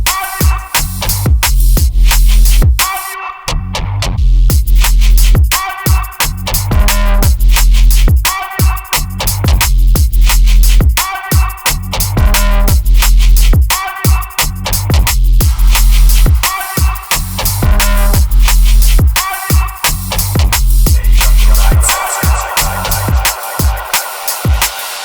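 A drum and bass track from an album plays loud and dense, with fast breakbeat drums and a heavy sub-bass running steadily throughout, no talking over it.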